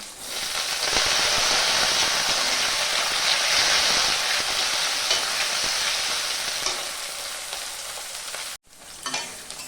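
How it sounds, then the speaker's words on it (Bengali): Loud, continuous sizzling of diced potatoes and chopped onions frying in a pan, with stirring clatter, easing slightly before a brief cut near the end. "আলু আর পেঁয়াজটা লাল লাল ভাজা হয়ে গেছে"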